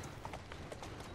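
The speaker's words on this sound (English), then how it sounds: "Runaway horse!" Galloping horse hooves in an Assassin's Creed game clatter in a fast, steady clip-clop rhythm, fairly faint and continuous, with no one talking over them.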